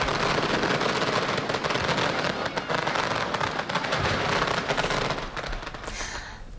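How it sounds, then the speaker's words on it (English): Dense crackling barrage of firecrackers and fireworks over a Chinatown crowd, continuous rapid pops and bangs that thin out toward the end. "After the noise of the firecrackers, all eyes were turned to the sky for a crowd favorite,"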